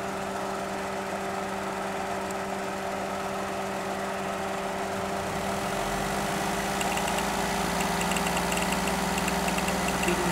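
A Perodua Kelisa idles with a dead plug coil, so one cylinder is misfiring. The engine gives a steady, close hum with a rough, uneven, knocking undertone, and it grows slightly louder and harsher partway through. No talk is heard.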